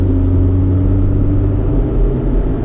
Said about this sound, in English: Let me go ahead and step on the gas